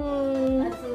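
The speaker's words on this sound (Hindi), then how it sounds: "भौंकने लगा ऋतु के सामने" A Siberian Husky puppy lets out a drawn, whining howl-like bark, a tonal cry that wavers and drops near the end, fairly close.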